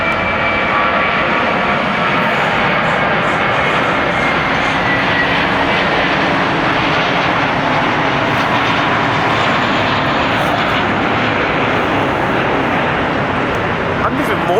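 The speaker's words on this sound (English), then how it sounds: "here comes the A321 with America." An American Airlines Airbus A321 jet roars steadily and loudly for the whole stretch near Los Angeles, a broad continuous engine rush with no pause, while people talk faintly beneath it.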